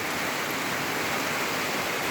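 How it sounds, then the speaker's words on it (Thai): Steady, dense rain falls with a constant broadband hiss, loud and close, no voices or other sounds breaking through. "โอ้ยฝนตก"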